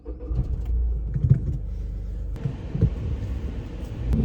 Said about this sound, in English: And now let's see what driving this GR Yaris is like.